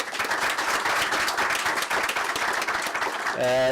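An audience at an entrepreneurship event applauds three young entrepreneurs after their talk, a dense burst of clapping that ends abruptly as a voice begins speaking.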